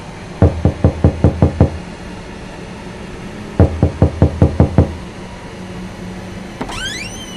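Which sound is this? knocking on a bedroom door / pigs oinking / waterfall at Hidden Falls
knocking on a bedroom door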